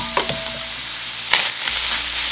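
Ground meat with its fat and drippings sizzles in a pan as it is stirred back together, with a constant close frying hiss broken by a few sharp scraping and stirring bursts.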